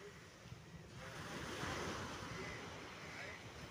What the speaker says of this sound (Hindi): समुद्र तट है, लहरें चल रही हैं